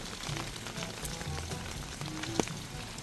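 Steady rain pours down on a Korean farm plot with plastic mulch, a dense continuous hiss of drops striking surfaces with no break, one brief sharper tap near the end.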